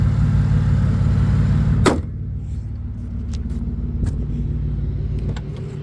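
A 2009 Pontiac G6 engine runs just after starting, a steady low rumble close by that drops slightly in level after a sharp click, then settles into an even idle with faint ticks.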